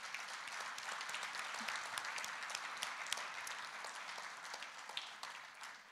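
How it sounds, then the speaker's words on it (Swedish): At a Swedish food competition prize ceremony, an audience applauds in a soft, distant, even wash of many hands clapping that holds steady for several seconds. "450 produkter är värt en applåd i sig"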